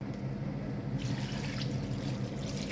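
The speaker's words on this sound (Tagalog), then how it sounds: "Lagyan na natin ng 1 bowl na tubig." A bowl of water pours steadily into a cooking pot of pancit guisado, a soft continuous splashing that grows slightly brighter partway through.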